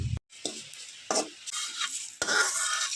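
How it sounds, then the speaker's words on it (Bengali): Vegetables being stirred in a pan for a vegetarian chhechra: scraping strokes of a spoon against the pan come in short bursts, close and clear, over a soft sizzle, with no voices. "সবজিটাকে নেড়ে ছেড়ে নেব।"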